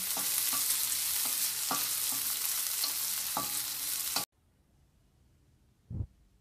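Ginger and green chillies fry in a pan with a steady, close sizzle and a few stirring scrapes for about four seconds, then the sound cuts to near silence broken by one soft knock.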